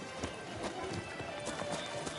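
Geralt's horse Roach gallops in The Witcher 3, a steady clip-clop of hooves with a brief whinny, quiet and continuous, with faint game voices in the background.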